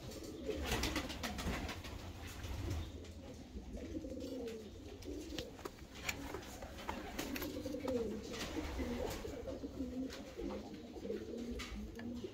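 Pigeons of fancy breeds coo steadily at close range in a loft, their soft rolling calls overlapping and continuing throughout with no talk.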